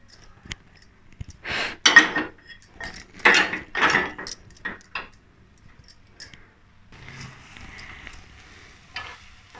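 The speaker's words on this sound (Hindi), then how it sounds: "इसमें अब हम ये अपनी गाजर पलट देंगे" Grated carrots tipped from a bowl into a pan of hot ghee for gajar halwa make a few clattering, scraping bursts early on, followed by a faint, steady sizzle, with no talking.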